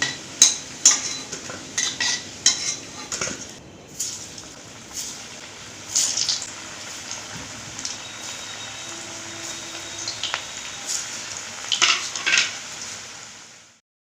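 Jackfruit pieces frying in a kadai, a soft sizzle beneath intermittent clanks and scrapes of a spatula turning and lifting the pieces, fading out at the end, no speech.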